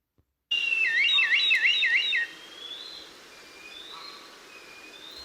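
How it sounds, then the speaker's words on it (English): A red kite's clear, wavering high whistle rises and falls several times in quick succession, followed by fainter distant calls against a quiet outdoor background. "Listen, that's the call of a red kite."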